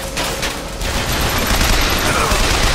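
A turret fires a loud, continuous barrage in BioShock Infinite, with dense rapid shots that stay close and intense for the whole stretch.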